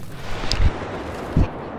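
Explosions in the video game Star Wars Battlefront, two short heavy low booms about a second apart over a steady background of game noise, with no speech.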